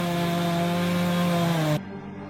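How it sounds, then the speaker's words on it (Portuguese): A chainsaw cuts a felled tree in Amazon rainforest land in Mato Grosso, its engine a loud, steady buzzing whine held for nearly two seconds before cutting off abruptly into near silence. "tem barulho de motosserra."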